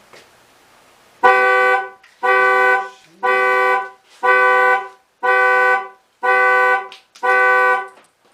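Infiniti G37xs sedan sounding seven loud, evenly spaced horn-like alarm beeps, each lasting close to a second with short gaps between, close and clear over an otherwise quiet garage.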